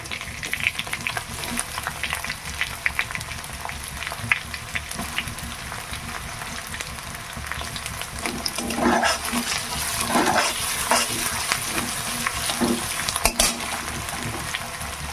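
Onions go into a pan of hot oil after fried garlic for a bitter gourd and masoor dal dish. A continuous close sizzle is broken by scraping stirs, then swells into a louder, busier crackle toward the end, with no speech.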